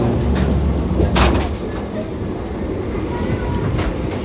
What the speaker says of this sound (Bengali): আমাদের ট্রেন এসে এইমাত্র পৌঁছালো বাজার শৌ জংশনে